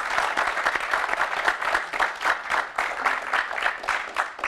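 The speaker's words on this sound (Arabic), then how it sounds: "تصفيقة" Studio audience applauding on a television talk show set, a dense, steady clatter of many hands clapping close by, continuing without pause.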